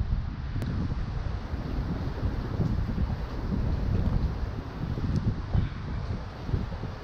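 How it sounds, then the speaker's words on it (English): Strong wind at St. Pete Pier while kayak fishing buffets the microphone with a constant low roar and rumble, gusting unevenly and drowning out other sound. "it is super windy out here"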